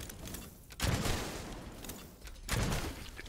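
Heavy gunfire from the Striga stake gun in the game Witchfire, with two loud booming shot bursts about a second and a half apart, each trailing into a dense rumbling tail over constant background noise.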